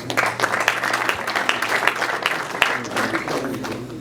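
Audience clapping at a Rwandan wedding introduction and dowry ceremony, a steady burst of applause from a crowd that runs through the whole stretch, fairly loud and close, with a low background hum beneath.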